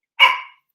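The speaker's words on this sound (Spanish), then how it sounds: "No estés ladrando." A dog gives a single short, sharp bark, loud and close, standing alone in silence.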